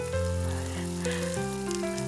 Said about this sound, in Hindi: तो अब बस इसमें एक तड़का भी लगा देते हैं।